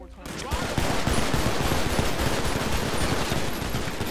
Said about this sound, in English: Shots fired by police, shots fired by police.